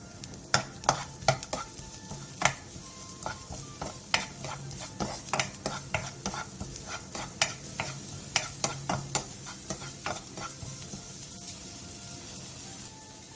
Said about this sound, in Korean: 팬에 참기름 1스푼과 대파 1줌을 넣고 골고루 어우러질 정도로만 센 불에서